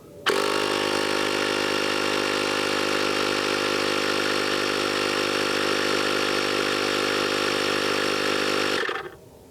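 A Kobalt cordless high-pressure inflator pump drones loud and steady for about nine seconds while topping off a vehicle tire to 80 psi, with an abrupt start and a sharp cutoff, no voices.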